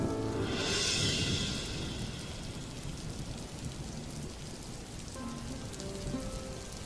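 Rain pours in a cartoon storm, a steady hiss of drops on surfaces, with a brief swell of heavier downpour near the start before settling into an even, moderate patter.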